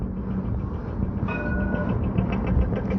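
A Jerusalem light-rail train passes in the city's Kiryat Moshe area, a steady low rumble and rolling hum of wagons close by with a faint high squeal rising midway, no voices.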